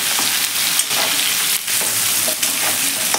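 Bitter gourd (karela) sautés in hot oil, giving a steady, close sizzle broken by a few soft stirring scrapes.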